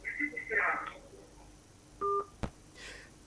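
Telephone tones come through as a live broadcast takes an incoming call: a few brief electronic beeps and a short steady tone, mixed with voices.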